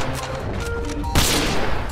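A gunshot at a legendary moose while hunting in Red Dead Redemption 2, one sudden loud blast in the middle of a busy game soundscape, its roar trailing off over the following second.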